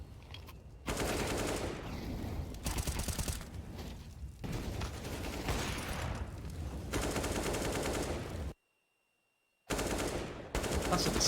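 Gunfire during a Counter-Strike match, dense bursts of automatic rifle shots and rapid fire running almost continuously, with a brief silent gap near the end, heard alone without talk.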